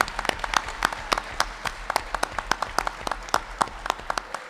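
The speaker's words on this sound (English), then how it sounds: "I want to give a huge round of applause to our panelists" Applause from a debate audience for the panelists at a mayoral debate in Lawrence, scattered individual claps rising sharply over a steady wash of clapping, fairly close and continuous.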